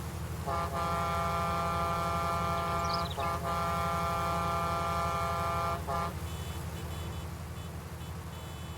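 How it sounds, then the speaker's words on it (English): A truck air horn in the video game Farming Simulator 19 blasts in two long sustained honks separated by a short break, loud over a low engine idle that continues after. "we're going to pull on the air horn, see if he notices us."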